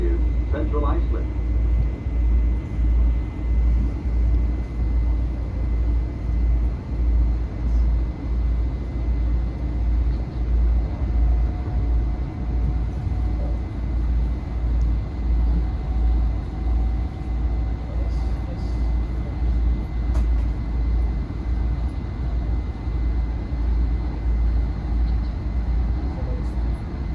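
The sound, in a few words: commuter train riding on rails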